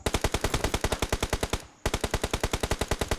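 Automatic gunfire in a video game practice range after a version 2.4 update, a loud, steady rapid burst of evenly spaced shots that breaks off briefly near the middle, then resumes at the same fast rhythm with no talking.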